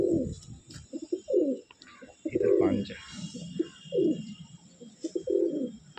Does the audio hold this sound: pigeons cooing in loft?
yes